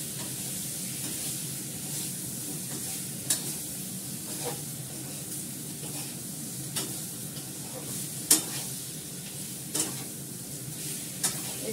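Greens and dry-roasted ground spices frying in a small amount of oil in a pan, a steady soft sizzle with occasional stirring scrapes and clinks, close and continuous.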